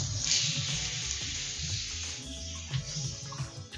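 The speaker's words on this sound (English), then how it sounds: "we're gonna chuck the watermelon slice on top and season it with a little bit of salt and pepper" A watermelon slice sears in a smoking hot pan, a bright sizzle that flares at the start and then settles into a steady crackling hiss at moderate volume with no talk.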